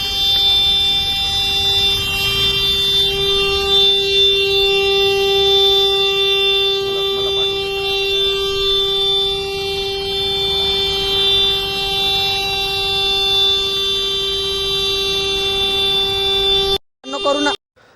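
Horn of an Ola S1 X Plus / Gen 2 electric scooter, a steady, loud electronic tone held without a break for about seventeen seconds before cutting off abruptly.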